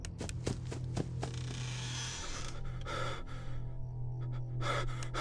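In the Five Nights at Freddy's horror game, heavy breathing and gasps come from outside a closed door, sharp rasping breaths in short bursts over a steady low mechanical hum.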